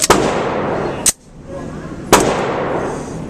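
A 92X pistol fires 150 grain reloads: three sharp, loud shots spaced about a second apart, each followed by a ringing outdoor tail.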